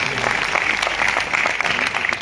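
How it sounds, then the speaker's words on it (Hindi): Audience applause at a shop company's anniversary gathering, a dense steady wash of clapping from a crowd filling the whole stretch at an even level, with a voice faintly mixed in underneath. "जोरदार तालियां हों उनके लिए।"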